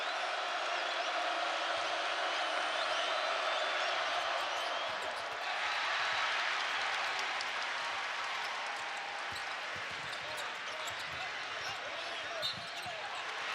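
Crowd noise fills a basketball arena during a college game between Auburn and NC State, a steady broad roar of cheering that swells midway. Faint ball bounces and squeaks sit underneath.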